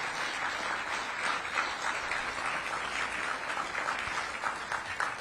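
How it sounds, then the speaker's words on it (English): An audience at a DC tech training program launch claps steadily, a dense, even wash of applause that lasts the whole stretch without pause. "So let's give a round of applause to all the folks who are here"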